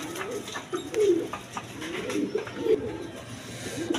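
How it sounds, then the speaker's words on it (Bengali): A pair of Kashmiri racer pigeons coo nearby in a repeated, low, throaty rhythm, several soft rolling calls overlapping with faint background noise. "দর্শকবৃন্দ এইখানে এক পেয়ার কাশ্মীরি রেসার কবুতর আছে"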